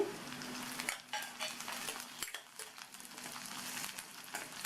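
Split green chillies, cut ginger and garlic sauté in hot oil in a pan for a chapati gravy. There is a steady sizzle, with a spoon stirring and scraping at the pan, close up and moderately loud, with no talk.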